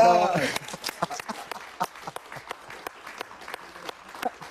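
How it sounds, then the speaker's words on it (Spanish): Studio audience applauding Leo Dan on a televised interview show: scattered, fairly sparse claps that come in separate bursts, starting just after a brief voice and carrying on at moderate level. "Un aplauso para Leo"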